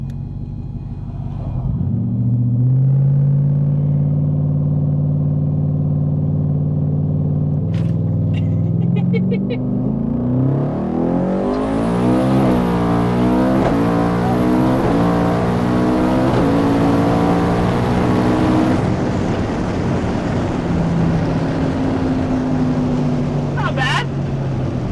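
A 4WD Ford F150 pickup launches off a trans brake, the engine rising from a loud idle to a roaring, climbing rev as the truck accelerates hard, heard up close from inside with people talking over it.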